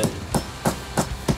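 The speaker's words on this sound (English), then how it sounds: "take a hammer, put this on something hard like concrete" A hammer strikes a metal wire crimp resting on concrete, five sharp evenly spaced blows ringing close and loud with no voices.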